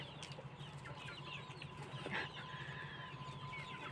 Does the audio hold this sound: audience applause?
no